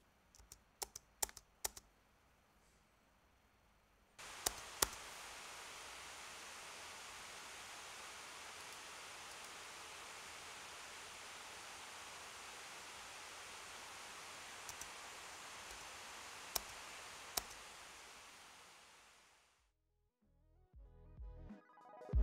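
A Lenovo ThinkPad Z16 laptop fan runs under load, a soft steady airy hiss that sets in after a few scattered key clicks, holds evenly for about fifteen seconds, then winds down to near silence.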